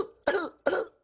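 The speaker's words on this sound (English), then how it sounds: "Sorry, just had to clear my throat there." Two short, forceful throat-clearing bursts, close and distinct, follow one another quickly with a brief pause between them.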